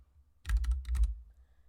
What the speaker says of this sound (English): pull out your keyboard or whatever and then type